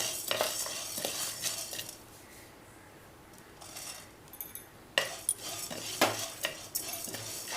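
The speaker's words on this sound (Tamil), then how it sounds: "இந்த ஸ்டேஜில் நம்ம இந்த கொப்பரை தேங்காவை சேர்த்துப்போம்" A utensil stirs dry copra coconut roasting in a pan with coriander and cumin seeds over a medium flame. Scraping and clinking come in uneven bursts, with a soft sizzle underneath and no speech.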